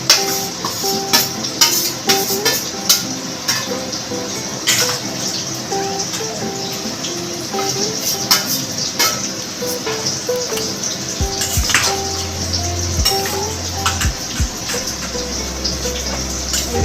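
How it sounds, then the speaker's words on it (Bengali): Onions frying in a pan while a Bengali mutton curry is cooked at home give off a steady, dense, loud sizzle with crackles and no talking. Faint tonal sounds run underneath. "পেঁয়াজ ভাজা হচ্ছে"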